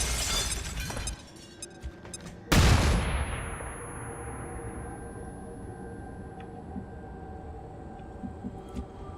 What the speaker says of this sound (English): Now we throw the flashbang.